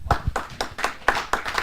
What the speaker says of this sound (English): Please give a round of applause for Tero about OpenShift.